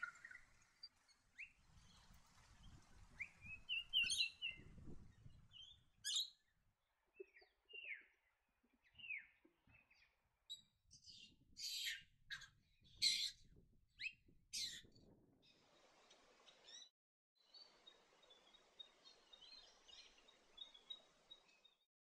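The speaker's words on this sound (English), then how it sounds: "The blue-faced honeyeater is common to the valley." Blue-faced honeyeater calls in a valley: scattered sharp chirps and short piping notes, some loud and close, separated by quiet gaps over faint low background noise.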